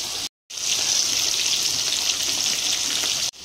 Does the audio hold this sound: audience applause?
no